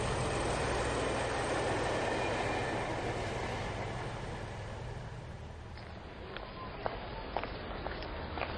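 A model railway train runs along its tracks at a workshop layout with a steady rumbling roll that fades slightly over time, followed by a few light clicks near the end.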